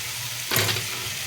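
Spinach with garlic and fish head being stir-fried and mixed in a pan: a quiet, steady sizzle broken by one brief scraping stir partway through, with no talking.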